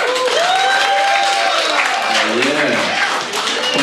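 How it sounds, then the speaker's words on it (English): A comedy club audience applauds loudly and steadily during a stand-up set, clapping filling the space, with a voice speaking over the noise partway through. "just by a round of applause"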